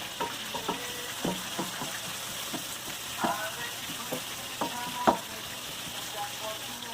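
Onions frying in oil left over from cooking meatballs, a steady close sizzle with intermittent spatula scrapes and clicks against the pan throughout.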